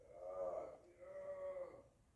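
Sheep at a herding lesson give two drawn-out bleats, one after another, faint and a little distant.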